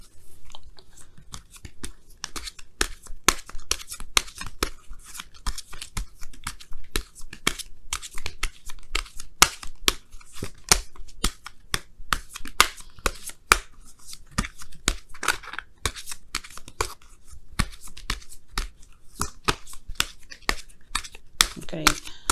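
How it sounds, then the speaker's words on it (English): Tarot cards are riffled and shuffled in a quick, continuous run of crisp flicking and slapping, with dense papery bursts throughout at close range. "I'm going to give you guys a quick shuffle here"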